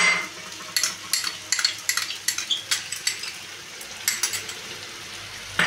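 A utensil scrapes and taps rhythmically against a pan while chopped tomato and garlic fry and tomato sauce is stirred in, close and clear over a soft sizzle, with no talking.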